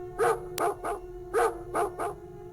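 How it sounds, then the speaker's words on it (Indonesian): Wild dogs bark in two quick bursts of three sharp yaps each, fairly close and clear against a quiet background with no talking. "Tiba-tiba saja aku mendengar suara anjing menggonggong."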